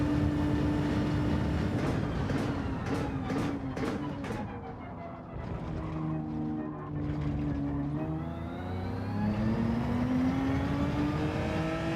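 A Genesis race car in Gran Turismo 7 bogs down in second gear, its engine droning and rising slowly in pitch through the gears, with shifts and a rattle of other cars nearby, loud and continuous.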